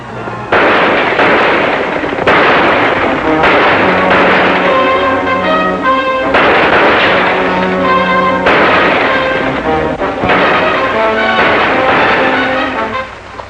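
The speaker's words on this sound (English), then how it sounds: "Those shots, they come from the ridge." Several sharp gunshots ring out from a ridge in a 1945 adventure serial, scattered bursts cutting through a loud, continuous orchestral score.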